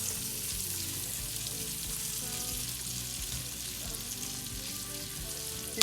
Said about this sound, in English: you're going to cook them until they're just barely charred